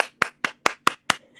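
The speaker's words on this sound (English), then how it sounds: "Wait, let me clap." One person claps their hands five times in a quick even rhythm, sharp close claps in a quiet room with nothing else heard.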